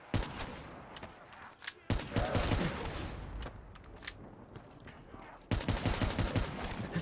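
Bursts of rapid automatic gunfire and single shots aimed at a horde of zombies in Call of Duty Black Ops 3 Zombies on the Ascension map, loud and close, with brief pauses between volleys.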